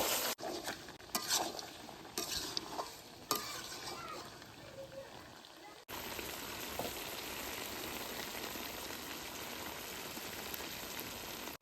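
Duck meat for a curry is sautéed in a pan. Stirring scrapes and clinks sound over a sizzle, which then settles into a steady, even frying hiss.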